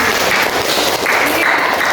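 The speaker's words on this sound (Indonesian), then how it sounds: "Tepuk tangan untuk Samriani." Applause for a student in a classroom, steady clapping from a group filling the whole short stretch at close range.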